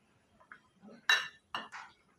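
Cashews dropped into a pan of ghee, a few close, sharp metallic clinks of a utensil against the pan in quick succession, with quiet pauses between.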